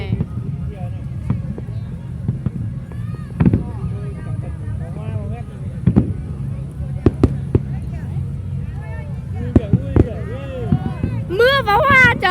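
Night fireworks burst over Ha Long Bay, sharp scattered bangs and crackles popping irregularly beneath steady excited chatter from nearby onlookers.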